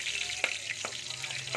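Milkfish (bangus) sizzles steadily in hot oil in a pan, a close, bright crackling frying hiss with a few soft stirring or popping bursts.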